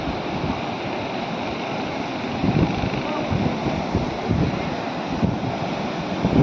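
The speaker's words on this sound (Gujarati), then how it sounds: "શેત્રુંજી પાણી વધારે આવી ગયું છે આજ." The Shetrunji river, swollen by unseasonal summer rain, pours over a bridge in a continuous low roar of rushing water, roughened by wind buffeting the microphone.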